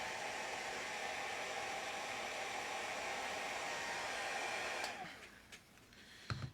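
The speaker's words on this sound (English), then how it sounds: "Just gonna hit this really quick with the hairdryer." A hairdryer blows on a miniature's base to dry paint, a steady loud rushing whoosh for several seconds that cuts off, followed by quiet handling clicks.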